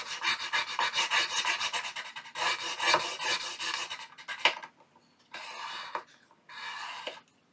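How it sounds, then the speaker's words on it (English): A ruler is rubbed firmly along a paper fold to burnish the crease for a junk journal fold-out. Quick scraping strokes come in a dense run at first, then slow into a few separate short rubs, close and moderately loud. "I'm going to bring in my ruler, and I'm just going to mark just a smidget, just one of these little squares, and I'm going to burnish it"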